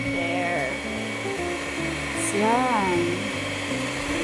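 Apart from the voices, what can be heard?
electric mixer whipping homemade ice cream mixture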